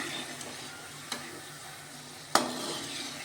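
Crisp wheat flour and jaggery kapnya fry in hot oil with a steady quiet sizzle, broken by a couple of sharp clinks of a slotted spoon as the pieces are turned over.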